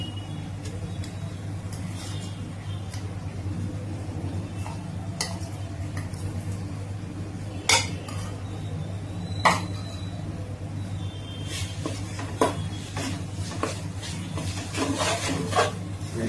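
Ground masala paste stirred in a pot for chicken pulao, a continuous rubbing, scraping stir over a low steady hum, with occasional sharp clinks of the spoon against the vessel.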